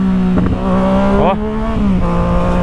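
Yamaha MT-09 motorcycle fitted with a new aftermarket exhaust, engine held at a loud steady idle with a sharp rev that climbs and falls back, close by, a brief word spoken over it.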